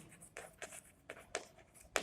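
A pen scratching out an accounting journal entry by hand, in short irregular strokes with soft taps, close and quiet with no talking.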